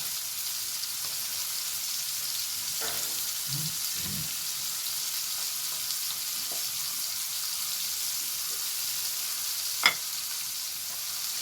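Acoli fish frying in a pan with crushed garlic, a soft, steady sizzle heard close, with a few light stirring knocks and one sharp clink near the end.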